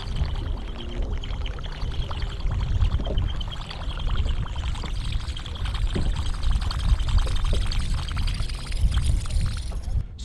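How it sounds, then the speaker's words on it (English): A buzzbait fishing lure is reeled across the water surface toward the angler, giving a steady, continuous churning and gurgling splash that holds for about ten seconds, close and alone. "Instantly that bait's on the surface and coming towards me with that great buzzbait sound."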